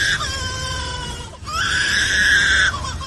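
A lyrebird mimicking other sounds gives two sustained, loud harmonic cries in a row, each about a second long and separated by a brief pause, strained and scream-like, near and alone.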